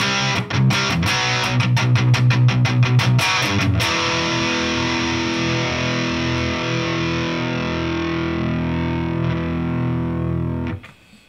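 Distorted electric guitar played through a Boss Katana 100 amplifier on its brown tone with gain set at 12: a quick run of choppy strummed chords, then one long sustained chord ringing loudly for several seconds before cutting off.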